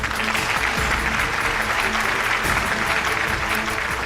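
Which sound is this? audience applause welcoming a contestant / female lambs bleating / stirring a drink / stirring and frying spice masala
audience applause welcoming a contestant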